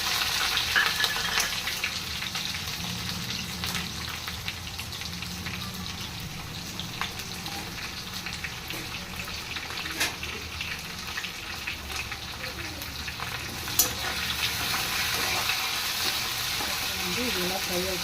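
Sliced onions and green chilies fry with dried red chilies in a pan, giving a steady, fairly loud crackling sizzle throughout with occasional small pops and no clear voice.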